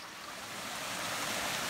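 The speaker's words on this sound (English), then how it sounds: "There is a steep waterfall." A steep waterfall beside a hiking trail in Grenada gives a broad, steady rushing roar that swells slightly and holds continuously without any voices.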